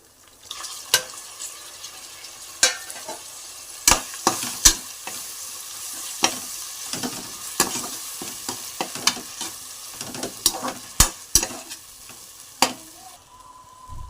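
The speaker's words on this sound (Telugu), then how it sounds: "టమాటాలు బాగా మగ్గేదాకా ఫ్రై చేసుకోవాలి" Tomatoes fry in ginger garlic paste for a spicy farm chicken fry, a soft continuous sizzle punctuated by frequent sharp clinks and scrapes of a spoon stirring in the pan, close and without talking.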